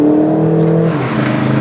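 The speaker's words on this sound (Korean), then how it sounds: "일단 스포츠에 놓고 주행을 하겠습니다. 이 경우 네, 엔진 사운드가 조금 더 강화되는 효과를 나타내게 되죠." Volkswagen Golf GTD diesel in sport mode pulls hard under acceleration, a loud, steady engine drone with strong low harmonics that shift slightly as speed builds, heard alone without talk.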